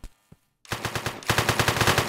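Rapid automatic gunfire in a video game about a bank robbery: after two soft taps and a short silence, a loud, dense burst of evenly spaced shots rattles on steadily to the end.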